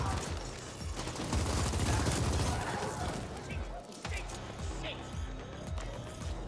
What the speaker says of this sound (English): Yeah, run towards the gunfire